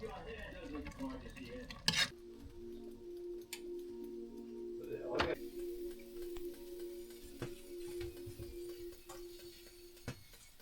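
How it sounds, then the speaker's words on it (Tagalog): Sardines being mixed in a pan with a utensil, with a clatter early on, then a steady low sizzle and occasional spoon taps and scrapes. "kukunin ko na yung sardinas para ma-mix ko siya ng maayos"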